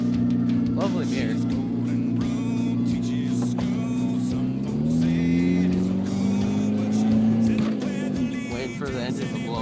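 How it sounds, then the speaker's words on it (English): A truck grinding along muddy farm trails, its engine droning loudly and steadily, then climbing in pitch as it revs harder, with knocks and rattles breaking through. "I'm on my old mud trails for my truck."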